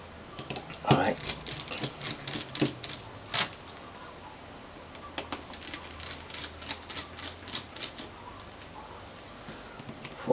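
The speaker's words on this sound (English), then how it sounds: "First, remove all the screws and the tips." Screws are taken out of a 1200M VersaView unit, producing a run of small, irregular close clicks and metallic ticks from tools and loose parts, with a few louder clacks spaced through the stretch.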